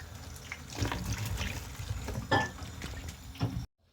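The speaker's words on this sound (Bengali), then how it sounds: "গাইজ যখন আমি স্ট্রবেরিগুলোকে ভালোভাবে ধুয়ে নিব" Strawberries are rinsed under running water, a steady trickling splash with small bursts as the fruit is handled, close and moderately quiet, before cutting off abruptly.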